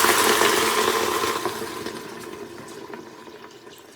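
Two quarts of water pour into a cooking pot for chicken pho, a loud rushing splash that tapers into a quieter trickle over several seconds, close and with no talking.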